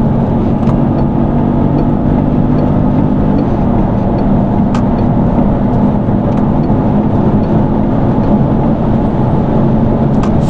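A Peugeot 5008 1.2 Hybrid with an e-DCS6 gearbox accelerates on a motorway, its engine and road roar forming a loud, steady drone inside the cabin with no talk.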